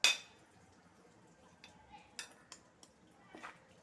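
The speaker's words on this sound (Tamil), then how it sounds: "நல்லா மிக்ஸ் பண்ணி ரெடியாக வச்சுக்கணும்." Semolina being mixed in a bowl, a sharp initial clang followed by faint intermittent scrapes and light clinks of a spoon against the bowl, close and quiet.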